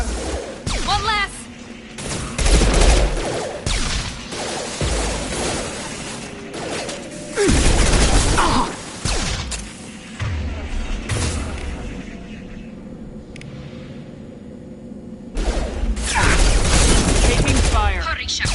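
Gunfire in the video game Mass Effect 2 comes in loud bursts with mechanical clanks and booms, mixed with game voices talking in several stretches.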